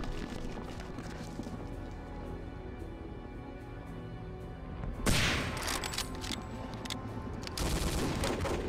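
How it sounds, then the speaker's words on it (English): A tank rolls in during Hidden & Dangerous 2, with continuous rumbling and clattering under ongoing battle noise that swells sharply louder about halfway through and stays heavy to the end. "As you can hear, the tank is arriving."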